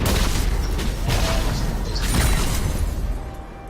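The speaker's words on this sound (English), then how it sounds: "Your team has destroyed a turret." A turret is destroyed in League of Legends with a heavy, booming crash and debris-like bursts, loud and close, swelling and then fading over a few seconds.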